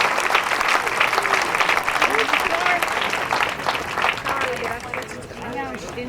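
Sustained audience applause at a closing ceremony for a school campus on Nacogdoches Street, dense steady clapping from a large crowd for the full stretch, with faint voices and cheers mixed in.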